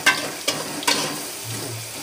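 Onion sizzles in hot oil while being fried for pulao, with a few sharp stirring scrapes and a low steady crackle between them.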